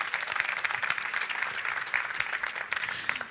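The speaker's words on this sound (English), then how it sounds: "so you can applaud them" An audience at the Citroën press conference at the 2017 Geneva Motor Show claps for a French music group, a sustained, moderately distant round of many hands with a few sharper claps standing out.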